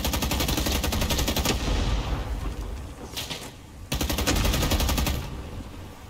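An AK rifle in the video game Rising Storm 2: Vietnam fires in long rapid automatic bursts, loud and close, with a short pause between the volleys.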